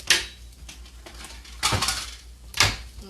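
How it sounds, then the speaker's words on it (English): Ceramic plates clatter and clink as one is lifted from a stack of dishes in a home kitchen, three sharp knocks spaced out over a soft background hum. "Grab my plate."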